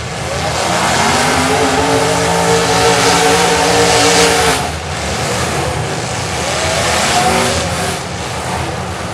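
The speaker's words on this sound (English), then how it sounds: "These cars are going at it." Demolition derby cars at the Paulding County Fair rev loudly and continuously, engines roaring and surging up close, with a dip in the din midway before the revving builds again.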